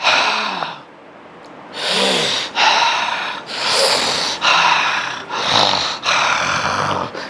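A person imitates laboured mouth breathing: five or six heavy, rasping gasps in a slow rhythm, each loud and close with brief pauses between, no talking over them.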